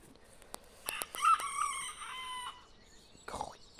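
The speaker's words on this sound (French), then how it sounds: "Il crie ce coq là." A rooster on a small farm crows once nearby, a loud drawn-out call preceded by a few sharp clucks, with another brief squawk trailing after in otherwise quiet surroundings.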